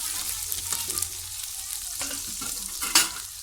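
Onion and tomato are stirred and sautéed together in a pan for a bottle gourd and chana dal stir-fry, giving a steady low sizzle broken by scraping spatula strokes and a sharper clatter near the end.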